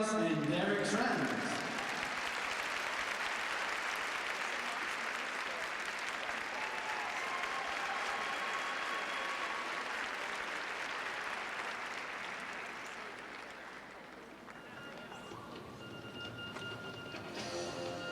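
An arena crowd cheers and applauds as pairs skaters take the ice at the 2008 Skate Canada pairs free skate, a broad sustained roar that fades slightly later on, with a commentator talking over it.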